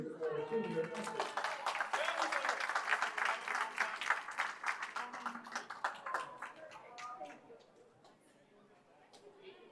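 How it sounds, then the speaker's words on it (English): A crowd at a high school swim and dive meet claps for teachers and mentors, a moderately quiet round of applause mixed with chatter and voices that tapers off toward the end. "Let's give a round of applause to these outstanding individuals who help shape the futures of our senior athletes"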